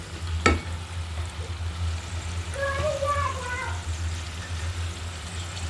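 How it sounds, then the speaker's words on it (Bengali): Potatoes frying with onions in a pan give a steady, moderate sizzle throughout, with a sharp knock near the start and a brief tonal squeak in the middle. "পেঁয়াজের সাথে আলুগুলো আমি ভেজে নিচ্ছি"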